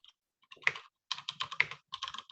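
Short bursts of clicky keyboard typing, nearby and fairly quiet, with gaps of silence between the quick runs of keystrokes.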